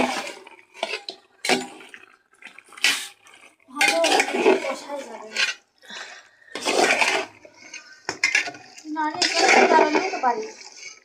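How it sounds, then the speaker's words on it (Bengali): Potatoes being stirred and mixed in a cooking pot at an outdoor New Year picnic, with scraping and clanking of utensil against metal in bursts, under intermittent nearby talk. "তো এখন সুন্দর করে আমি কষাই নেব, আরও আলু দেব, এর সাথে আরও আলু মিক্স করব।"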